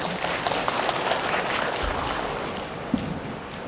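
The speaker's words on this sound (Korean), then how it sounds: "박수 부탁드립니다." Scattered, moderate clapping from an audience at a high school admissions information session, uneven and thin with a few sharper claps standing out, fairly quiet.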